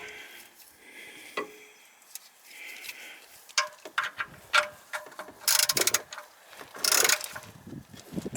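Ratchet clicks and metallic tool sounds while tightening a part on a Suzuki Jimny engine during servicing, coming in irregular bursts of close, moderately loud clicking that grows busier toward the end.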